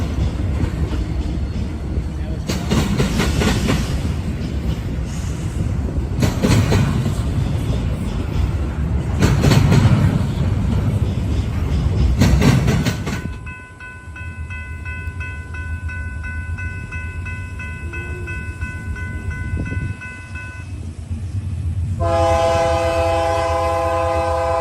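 A KCS heritage locomotive, number 4006 in veterans' colors, leaves the yard eastbound on the Vicksburg subdivision. It roars past loudly with rumbling cars, then its horn sounds in long steady blasts, and another horn follows near the end.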